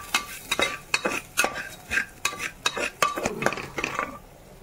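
A spatula scrapes and stirs salt and turmeric in a pan for a dried fish (shutki) dish, a quick run of about a dozen close, clattering strokes with faint sizzle between them.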